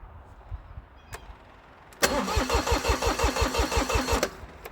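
A cold diesel tractor engine clicks quietly, then cranks and catches about halfway through, settling into a loud, even, rhythmic chugging idle before cutting off near the end.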